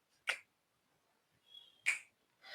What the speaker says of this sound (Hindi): आई कैसे निकालना है तुम ऐसे चुटकी बजाओगे